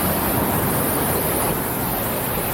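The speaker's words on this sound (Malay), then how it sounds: "Okay, ni air terjun dia." The waterfall at Lata Bunta, Pahang, roars as a dense, steady rush of falling water, loud and close, with no break across the whole stretch.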